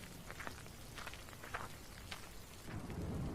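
Heavy rain falls steadily in a cartoon story scene, a dense continuous wash of downpour throughout with scattered drop hits, swelling louder near the end, with no voices.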